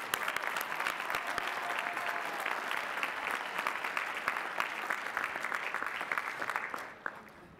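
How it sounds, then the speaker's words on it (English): Sustained applause fills a university spring commencement hall as master's degree recipients are recognized, a dense steady patter of many hands from a large crowd, slightly distant, tapering off near the end. "Please recognize the master's degree recipients with the hearty congratulations and applause."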